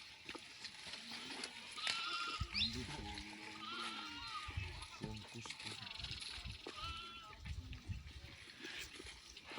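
Bleats of a newborn lamb rise several times over a busy outdoor background, with people talking nearby and faint splashing water.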